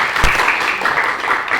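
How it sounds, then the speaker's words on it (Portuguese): Workshop audience at a rainwater harvesting session with a mini-cistern applauds, steady close clapping from a small group that holds throughout. "Uma salva de palmas para eles, por gentileza."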